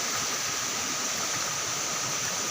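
Spring water gushing out of rock on Mount Bungsu in a heavy flow, a loud, constant rushing hiss heard up close with no voices.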